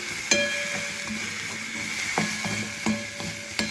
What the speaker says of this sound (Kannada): ಸಾಫ್ಟ್ ಆಗೋ ತನಕನೂ ನಾನು ಹಿಂಗೆ ಫ್ರೈ ಮಾಡ್ಕೊಳ್ತಾನೆ ಇದ್ದೀನಿ